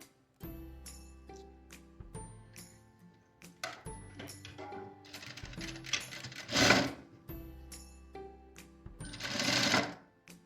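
Sewing machine stitching around the edge of a hoodie hood, running in close, steady bursts with brief pauses between seams and rising louder near the end of each run, alongside faint clicks and rattles.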